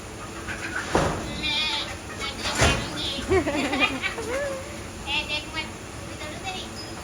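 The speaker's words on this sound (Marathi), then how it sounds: "एकच बकरी आहे ती मे मे करते" Goats and sheep at a rural home bleat in several wavering calls, moderately close, mixed with people talking and background chatter.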